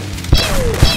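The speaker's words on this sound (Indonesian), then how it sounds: "Meledak itu keren banget tadi tuh ledakannya" Two sharp, heavy blasts from video game explosions, roughly half a second apart, each with a deep thump and a bright crackling tail, under a continuous game background hum.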